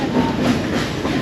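Silver Dollar City theme park train cars rumble along the track with a loud, steady rolling roar and faint clickety-clack, heard up close from aboard.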